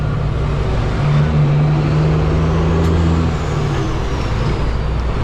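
A heavy semi truck engine drones loudly and continuously from inside the cab, with a rising turbo whine layered over the deep rumble.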